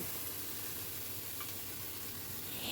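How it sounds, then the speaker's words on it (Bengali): Cut ash gourd pieces going into a pan of rice being fried, a soft continuous sizzle and hiss close by with faint stirring, no voices. "এইবারে আমি দিয়ে দিচ্ছি কেটে রাখা চাল কুমড়োটা"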